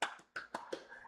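Live hand claps made in place of recorded sound effects: four sharp, close claps spaced unevenly across about a second, loud and dry with no talking over them.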